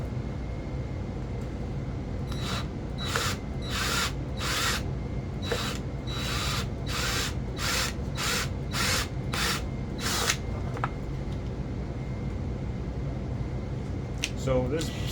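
A drill with a cobalt step bit bites into stainless steel in a run of about ten short, evenly spaced grinding bursts over a low background hum. Close and moderately loud, with a voice audible throughout.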